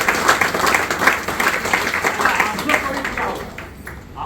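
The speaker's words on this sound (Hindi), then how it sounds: "एक जोरदार ताली" An audience at a DXN motivational business talk gives a loud, dense round of clapping that holds steady, then tapers off toward the end.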